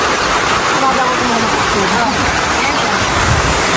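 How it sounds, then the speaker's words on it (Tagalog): Heavy rain pours in a dense, steady hiss at a riverside spot, with muffled voices talking underneath. "Grabe lakas ng ulan."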